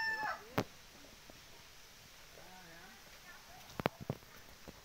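Desi chickens and roosters on a poultry farm, kept mostly indoors, give faint, distant clucks and calls over a quiet background, with a few sharp knocks nearby.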